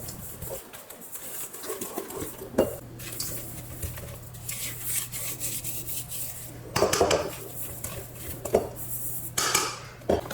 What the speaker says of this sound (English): I'm going to mix the flour,